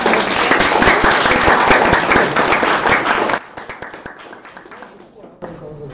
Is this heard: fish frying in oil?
no